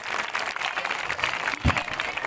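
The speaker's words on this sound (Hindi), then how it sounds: "जोरदार तालियां बजाइए उसके लिए" A short burst of audience applause at a school cultural program, steady clapping from many hands filling the space.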